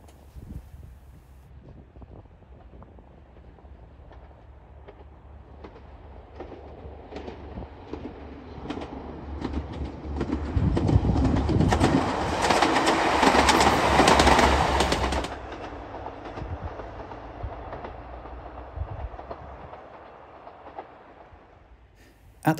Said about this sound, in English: the train as it passes along the coast towards Nethertown Station